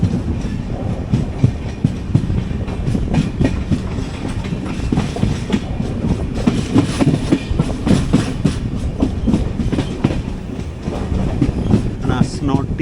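The Mangala Lakshadweep Express moves onto a loop line near Asnoti station, a close and loud rhythmic clickety-clack of wheels over rail joints sounding under a steady rumble for the whole stretch.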